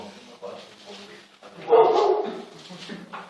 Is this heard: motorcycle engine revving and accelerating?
no